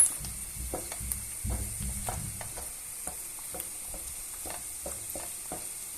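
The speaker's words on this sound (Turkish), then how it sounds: "Tereyağı eriyene kadar yine altını açık bırakıyoruz." Butter melts in a pan on a stovetop burner, giving a steady soft sizzle with scattered spoon scrapes and taps from stirring. No one talks.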